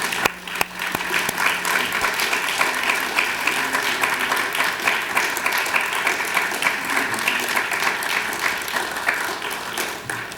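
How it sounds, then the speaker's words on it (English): An awards-ceremony audience gives a sustained round of applause, many hands clapping steadily and loudly for about ten seconds without letting up, with faint crowd murmur beneath. "Let's give them a round of applause."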